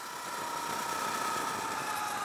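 A Sur Ron Light Bee electric dirt bike fitted with a KO Moto swingarm accelerates on pavement, its motor whine rising slightly in pitch over a steady rush of wind, close and continuous with no talking.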